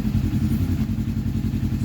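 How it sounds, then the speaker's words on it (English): Turbocharged RZR side-by-side engine held at steady idle with light throttle, a loud, continuous low rumble with rhythmic pulsing throughout, no voices. "apply throttle and bring the RPM up in the idle range here"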